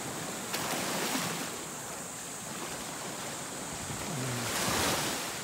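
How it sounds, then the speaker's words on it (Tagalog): Constant roar of fairly large ocean surf breaking on a shore, with wind buffeting the microphone throughout. "Medyo malaki-laki po ang alon ngayon"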